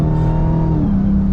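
A 2022 Dodge Charger Hellcat Widebody accelerating hard, its supercharged engine roaring loud and close with a rising, steady drone over a brief burst.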